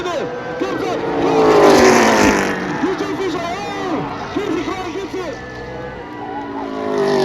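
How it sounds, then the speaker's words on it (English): Race cars roar at Tri-City Raceway during the 54th annual Apple Cup race, loud engines revving and passing close in overlapping waves, with a crowd and talking mixed in. "the sound of roaring engines echoed across part of the Tri-Cities over the weekend"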